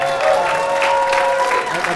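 A comedy club audience applauds and cheers for a stand-up comedian, a steady, full wash of clapping with some crowd noise throughout.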